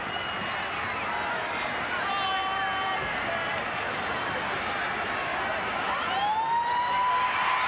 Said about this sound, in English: And there's the siren.